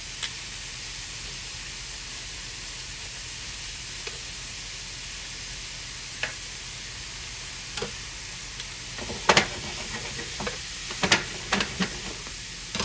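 Shrimp frying in a pan give a steady, even hiss of sizzling oil, with occasional light utensil taps and scrapes from stirring, close and alone without talk.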